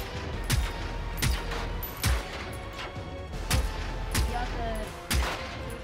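Periodic loud gunshots from the video game Generation Zero, fired at a tank, each sharp crack with a booming low tail, spaced about a second apart over steady background rumble.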